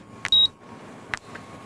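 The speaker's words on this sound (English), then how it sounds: "my terminal beeped for the 100th time." A 1990-era computer terminal gives a short electronic beep, a bright steady tone lasting a fraction of a second, followed by a couple of faint clicks in a quiet room.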